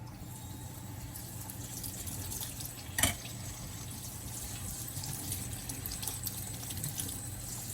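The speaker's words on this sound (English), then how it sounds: "rinse it with cold water." Cold tap water runs steadily over cooked boba pearls in a sink strainer, a faint continuous rushing and splashing with one brief clunk partway through.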